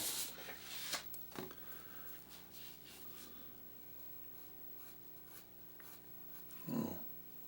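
A pencil rubs and shades on paper while a hair and scalp line is drawn, in soft scratchy strokes that come in a few brief bursts with quiet gaps between them.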